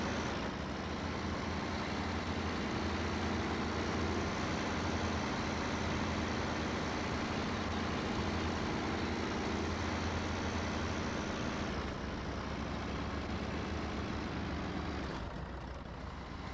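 A heavy truck engine in the Snow Runner video game drones steadily at a low pitch while hauling a trailer, running loud and continuous for the whole stretch with a slight shift near the end.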